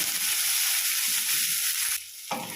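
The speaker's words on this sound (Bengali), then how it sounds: "দিয়ে দিচ্ছি পেঁয়াজ কুচি। পেঁয়াজটাকে আমি হালকা করে ভেজে নেব" Chopped onions sizzle and fry in a hot pan with cumin seeds, a steady bright crackle that drops away briefly near the end before resuming, close and without voices.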